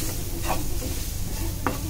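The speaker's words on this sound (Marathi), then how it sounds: "आता हे छान आपण परतून घेऊया आणि नंतर त्याच्यामध्ये आपण आलू टाकणार आहोत।" Spices with cumin powder sautéing in a pan for a chatpata aloo masala, a steady close sizzle with two brief scraping stirs of a spoon, no voices.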